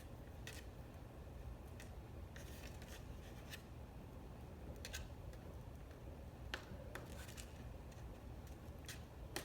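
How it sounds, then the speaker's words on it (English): Opened scissors are twisted into a paper bird kite to bore a hole, giving faint, scattered small ticks and scraping clicks against a quiet room hiss. "what I like to do is I like to open up my scissors and carefully"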